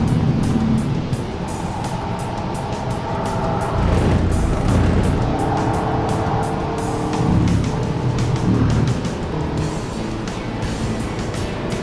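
An Audi A3 is driven hard around the Buddh International Circuit race track, its engine note rising and falling through gear changes and corners, loud and continuous from inside the car.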